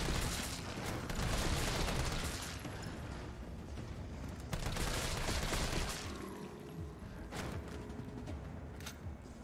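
Gunfire in the Resident Evil 3 Remake video game, dense bursts of repeated shots and sharp cracks with booming echoes, loud and continuous before thinning into scattered shots and mechanical clatter.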